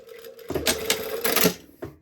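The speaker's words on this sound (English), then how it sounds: "I'm just going to start Stitch right on that previous stitch line" A sewing machine stitches along a previous stitch line on a bow collar, a short burst of rapid mechanical clattering that runs in two quick bursts with a brief pause and a final thunk.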